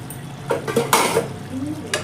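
Fenugreek-leaf chicken fry is stirred in a pan, a few short scraping, shuffling strokes of a utensil over a low sizzle, close and fairly loud, with no voices.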